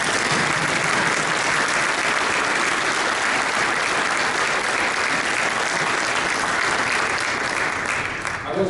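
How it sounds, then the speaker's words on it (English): Sustained audience applause fills a PGA of America town hall, dense and steady from start to finish, with many hands clapping at once before it thins slightly at the very end. "let's give both these gentlemen a big round of applause."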